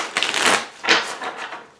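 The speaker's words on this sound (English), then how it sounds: "Try and get most of the shuffling done and out of the way at the beginning" Tarot cards being shuffled by hand, two or three quick papery riffling bursts close to the microphone with short pauses between them, and no voice.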